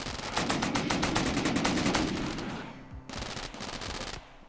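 Heavy autocannon turrets in RimWorld firing at centipedes: rapid rhythmic bursts of repeated shots, a long loud volley followed by a brief pause and another burst, with no talk.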